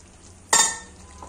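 Cauliflower florets drop into a pan of cooked-down tomato curry with a single bright clatter and sizzle that fades over half a second, close and alone with no talk.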